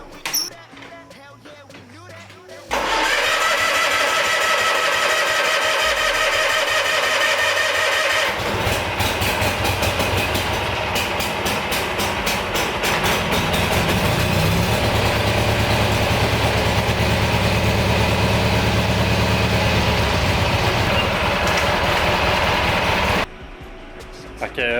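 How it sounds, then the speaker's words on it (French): An old tractor engine cranks and then catches, roaring loudly before settling into a steady rough idle that runs on for about twenty seconds and then cuts off, with someone talking faintly near the start and end. "Ça a toujours été un défi partir ce tracteur-là"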